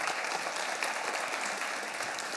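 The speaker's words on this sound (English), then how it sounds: "I'd just like to start by clapping for them" Sustained applause from a lecture-hall audience clapping for Harvard's chefs at a public science and cooking talk, dense and steady throughout with no voices over it.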